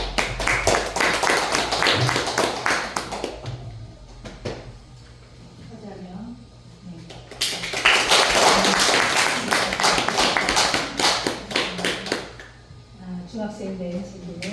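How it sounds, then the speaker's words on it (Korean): An audience at an Easter church service claps for middle and high school students: two long bursts of dense, steady applause, each lasting several seconds, with speech heard in between. "이 친구들에게 이렇게 박수를 많이 보내주시기 바랍니다"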